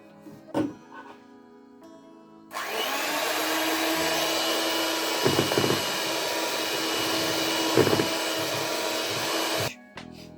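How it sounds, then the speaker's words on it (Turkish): A loud, steady electric mixer drone whisking eggs and sugar until foamy for muffin batter, starting abruptly and running about seven seconds with a few bumps of the beaters against the bowl before cutting off. "Şimdi bunları köpük kıvamına gelene kadar çırpıyorum"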